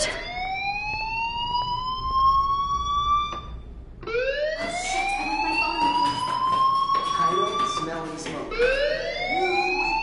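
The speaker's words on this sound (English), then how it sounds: "Hey, do you hear that fire alarm?" A rising, wailing electronic fire alarm in the video game Life is Strange sweeps upward in loud repeated cycles, pausing briefly before starting again, with talk underneath.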